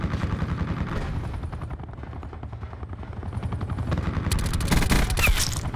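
The Daemon 3XB SMG rips off rapid-fire bursts in Black Ops 4 gameplay, a dense, steady rattle of shots that runs the whole time. Heavy game noise sits beneath it, and a loud, bright burst comes near the end.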